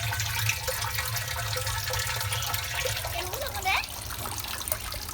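A small pet being bathed, with water splashing and trickling steadily throughout, a soft running-water wash under quiet background noise.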